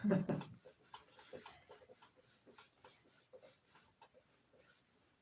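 A hand repeatedly rubs a surface coated in automotive base coat and clear coat finish, giving steady back-and-forth scuffing strokes that fade slowly, close up with no talking.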